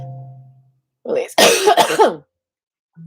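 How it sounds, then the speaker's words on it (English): Someone coughs during a steamy qi gong session: a short throat-clearing followed by a burst of several harsh coughs close by, with brief murmurs before and after. "it makes you cough sometimes"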